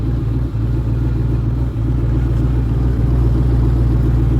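Close, loud idle of a stock Ford Mustang with mufflers removed, a deep uneven lumpy rumble with small dips in rhythm, steady throughout in a shop.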